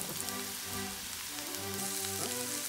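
Bacon dropped into a pan of olive oil and minced garlic sizzles in a steady, close hiss, with soft sustained musical tones running underneath.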